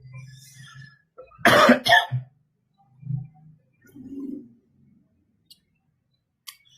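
A sharp double cough bursts out close by, set against soft cooing of pigeons and quiet surroundings.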